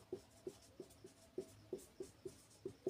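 Pen or chalk writing out a math solution on an arithmetic progression problem, heard as about ten quiet, evenly spaced scratchy strokes in a steady rhythm with no talking.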